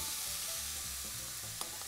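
Korean rice cakes stir-fried with garlic and onion in a pan give a constant loud sizzle and crackle, with a single sharp clack of a utensil near the end.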